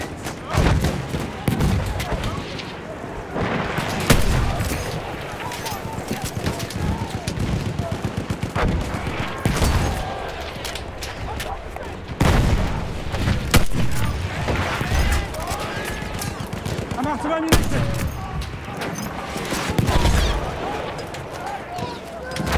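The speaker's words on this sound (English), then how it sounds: "Enemy machine gun over there!" Enemy machine gun fire in the video game Battlefield 1, with loud rapid bursts and shots crackling across the whole stretch, mixed with other battlefield gunfire and booms, close and intense.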